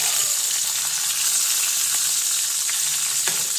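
Tomatoes fry in hot oil in a pan, giving a steady, close, loud sizzle with a constant hiss throughout and no talking.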